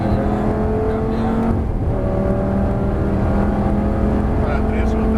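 Formula GT race car engine droning steadily and loud throughout, with a brief dip around the middle as it shifts gears before pulling again; a voice speaks over it at times.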